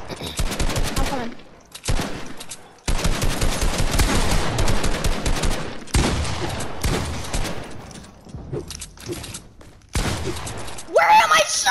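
Rapid gunfire bursts from a realistic-style shooter game in a zone wars match, loud and close, with automatic volleys repeating in clusters and short gaps between them.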